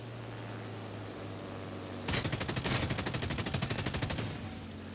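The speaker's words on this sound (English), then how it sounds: "that's how good the machine guns are on this thing" The SAAB 21's machine guns fire in War Thunder as one sustained rapid burst of about two seconds, loud and evenly pulsed, over a low steady engine drone.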